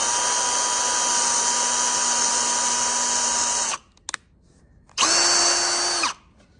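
Power drill boring a pilot hole for screws in wood, a steady high whine running loud for several seconds, stopping, then a second shorter burst after a pause.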